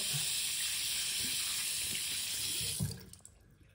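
A wristwatch held under a running tap during a repair, with a steady broad hiss of flowing water that stops abruptly near the end, leaving faint handling sounds.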